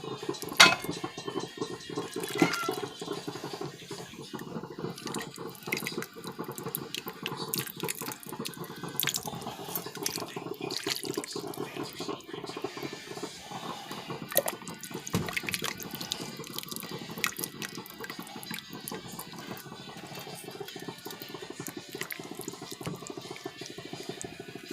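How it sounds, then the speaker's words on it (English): Vegan broth poured into a pot of Puerto Rican-style noodle soup makes a steady, continuous liquid splashing that runs unbroken for about twenty-five seconds, fairly close, with no one talking. "Get some broth in there."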